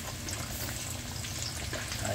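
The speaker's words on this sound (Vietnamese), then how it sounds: "Mình tiếp tục cho vào rán." Pork ribs deep frying in hot oil, a steady, dense close sizzle and crackle that runs without break and without talk.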